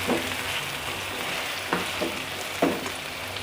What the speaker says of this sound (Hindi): आलू और चिकन जो है ना ये अच्छी तरह से फ्राई हो चुके हैं